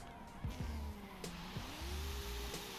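A 2,400 horsepower Toyota Supra in Forza Horizon 5 spins its wheels, the engine rising and wavering at high revs with short gear-shift breaks, moderately quiet and steady throughout.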